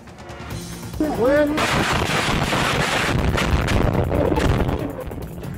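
A loud blast rumbles through a busy street in Aleppo, Syria, followed by sustained roaring noise and crowd commotion with wind buffeting the microphone.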